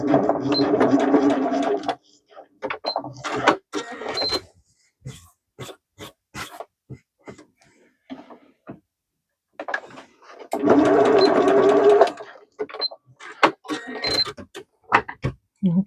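Sewing machine reinforcing stitches on patchwork, two close bursts of rapid whirring stitching at the start and again later, separated by quiet gaps with light clicks and handling noises.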